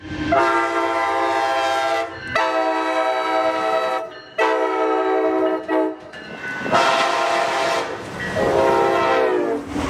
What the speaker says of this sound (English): K5LAs are very much passenger train horns.